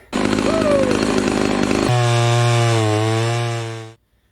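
A Homelite Super XL12 chainsaw, the Evil Dead style saw, roars loud and close at high revs, then drops to a steady rough idle before cutting off abruptly.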